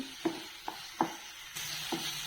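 Chicken curry masala mixture frying in oil, a soft close sizzle with a few quick stirring scrapes spaced out, quiet and without talk.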